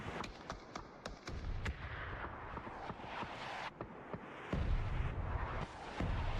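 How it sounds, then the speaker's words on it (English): Mortar fire in a video game, with repeated sharp booming blasts and impacts scattered over rumbling battle noise, fairly distant and mixed together. "Mortars coming out."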